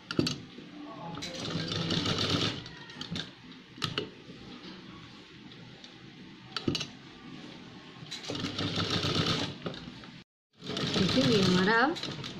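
Sewing machine stitching a star-shaped design near a blouse neckline, running in steady rapid bursts with brief pauses between runs, loud and close, while someone talks over it.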